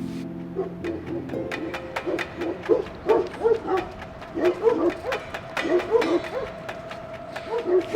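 A guard dog at a brown bear site in China gives repeated short barks and yips in irregular bursts, fairly close, with a squeaky whine between them and some faint voices.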